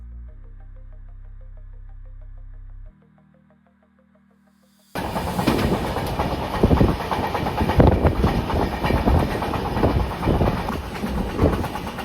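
After a quiet start with a faint tone, a Konkan Railway train rumbles loudly along the rails through the Western Ghats, with rattling clatter, close and continuous.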